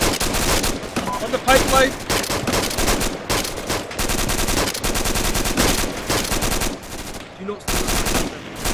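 Rapid rifle fire crackles through a platoon's live training exercise with an airborne unit, with loud, dense bursts of repeated shots and brief pauses, as soldiers shout over the shooting.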